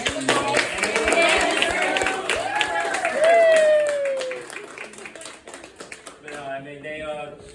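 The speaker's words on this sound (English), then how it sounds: "we should just give a round of applause to Raquel and Danielle for how hard they put this all together" A small group claps and cheers at a 30th birthday party, brief scattered clapping close by, mixed with excited voices and talk that fade toward the end.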